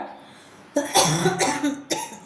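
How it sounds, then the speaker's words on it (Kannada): A person coughs in a close burst of three or four harsh, throaty coughs after a quiet moment, with one more cough trailing at the end. "ಈ ಬೇಸಿಗೆಯಲ್ಲಿ ಕೆಮ್ಮು"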